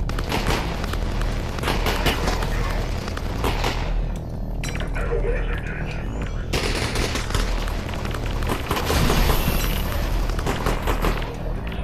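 Thrown grenades explode amid a dense barrage of rapid gunfire and booms during Half-Life: Alyx combat. The clatter is loud and continuous for the whole stretch.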